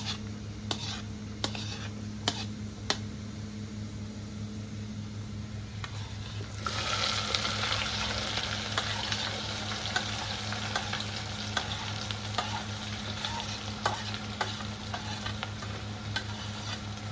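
Onions sizzle steadily in hot oil with cumin and garlic in a home kitchen pan, joined partway through by a louder burst of frying as they go in, with intermittent clicks of a spoon stirring.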